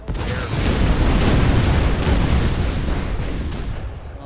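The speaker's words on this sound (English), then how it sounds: "Fireworks." Fireworks weapon explosions in the video game Shell Shock Live, heard as a loud, continuous barrage of crackling booms and bursts that blur into one sustained rumble with no one speaking over it.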